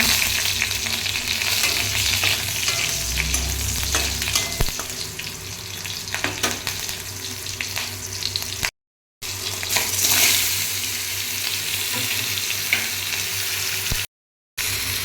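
Panch phoron spice mix and green chillies frying in hot oil, with a loud, steady, close sizzle and occasional stirring scrapes, broken by two brief silent gaps.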